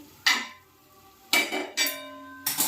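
An iron tawa griddle is set down on a kitchen stove, giving several sharp metallic clanks with short ringing tones, close and distinct against a quiet room.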